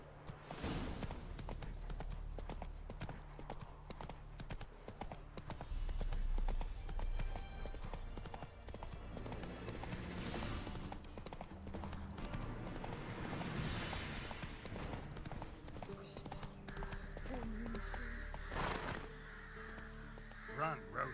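Hooves of a galloping horse pound rhythmically in The Witcher 3 gameplay, mixed with crow caws and game ambience, while a person talks intermittently over the action.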